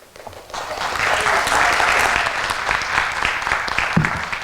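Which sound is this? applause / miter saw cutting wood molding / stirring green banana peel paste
applause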